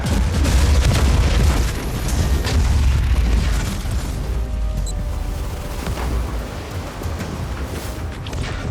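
Heavy bombardment explosions in Warhammer 40000: Inquisitor - Martyr, a loud, rumbling series of deep booms and blasts that roll continuously and then ease into a lingering rumble.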